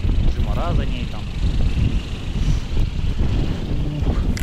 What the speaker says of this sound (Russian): Как здесь ветрено.